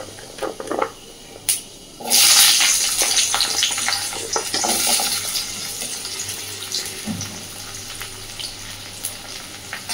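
Cut potato hitting hot oil seasoned with a dried red chilli and panch phoron, a loud burst of sizzling that starts after a couple of seconds and keeps up as a steady hiss with crackles, with no talking.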